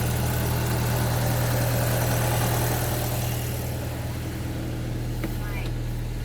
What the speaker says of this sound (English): Yeah, the engine's quite rowdy.